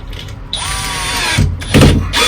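A power drill drives a fixing in during an electrical rewire, with a loud whirring spin that winds up, stops, then gives short further bursts with clicks and knocks.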